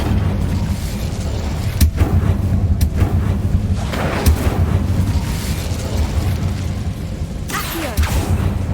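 Incendio fire spell cast in Hogwarts Legacy, a loud dense rumbling burst with several sharp booming pops across the stretch, then a fresh crackling flare near the end, over constant game ambience.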